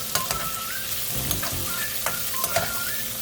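Ingredients with garlic fry steadily in a pan for pad Thai, a continuous sizzle broken by a few sharp clicks of a utensil stirring, close and fairly loud with no talking.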